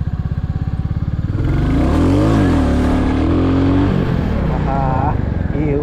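A Royal Enfield Bullet single-cylinder motorcycle thumps at idle, then revs hard and holds a loud, rising engine roar for a wheelie in first gear, close by, with a voice briefly audible over it.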